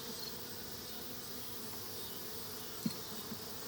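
Honeybees buzz steadily at an open hive, a continuous low droning hum of many wings close by, with a couple of faint soft knocks near the end and no talk.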